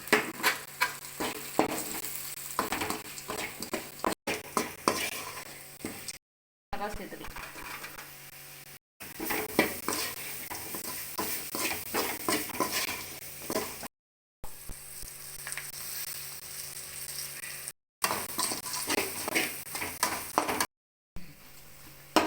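Spices with Kashmiri chilli powder and coriander powder sautéing in a pan, a busy sizzle with frequent stirring clatter, set against steady tonal background sound and interrupted by several abrupt silent cuts.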